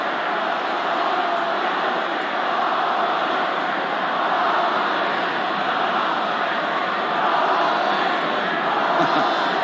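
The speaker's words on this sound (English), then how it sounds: "And the crowd, well, they're telling you what they think." A packed rugby league stadium crowd at Lang Park roars in a continuous, loud wash of voices during a 1984 State of Origin match between Queensland and New South Wales.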